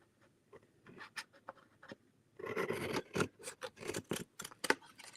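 Scissors snip through card along a pencil line in quick repeated cuts, with sparse, quieter snips at first and then a denser run of crisp, close chops.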